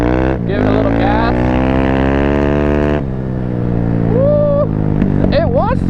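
A Thumpstar 250 dirt bike engine runs loud and close, holding a steady buzzing drone, then dropping and rising again as the throttle is blipped.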